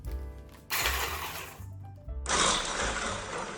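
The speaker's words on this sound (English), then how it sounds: "But what if we just mix it with the mixer?" An electric mixer churns butter and sugar for sourdough chocolate chip cookie dough, a loud, close whirring in two bursts separated by a brief lull, with no talk.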